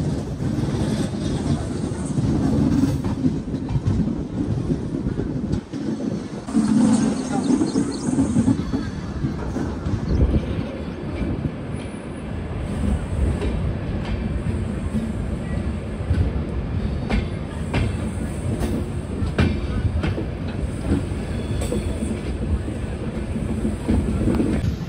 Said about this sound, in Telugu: ఇప్పుడు ఈ డైరెక్షన్లో అయితే వెళ్తుంది.